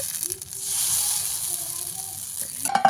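Chitoi pitha batter sizzles in a hot pan, a steady close hiss of frying that lasts a few seconds and ends with a light clatter.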